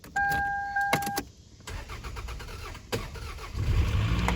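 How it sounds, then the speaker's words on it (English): A small 4-cylinder car engine cranks briefly, then catches and starts, settling into a steady nearby idle that swells louder toward the end; a sharp clatter and short bursts come before the start. "we're just gonna start by seeing if we can just crank it"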